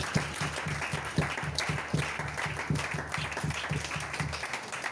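An audience applauding at a talk, steady rhythmic clapping from a crowd heard at a moderate distance, sustained and even throughout without a break.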